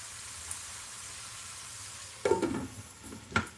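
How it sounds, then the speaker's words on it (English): Potatoes with pork chorizo sizzle steadily in a frying pan, then a few brief scraping stirs and tosses clatter near the end, close and moderately loud, with no talk. "so let's give these potatoes a toss or stir"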